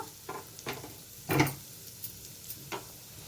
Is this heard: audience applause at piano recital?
no